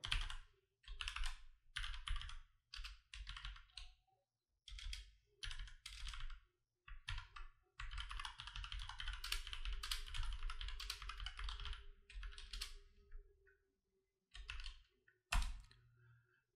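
Bursts of fast typing on a computer keyboard while entering code, clustered runs of key clicks separated by short pauses, close and clear with no speech.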